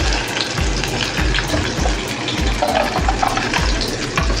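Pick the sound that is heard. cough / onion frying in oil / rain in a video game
onion frying in oil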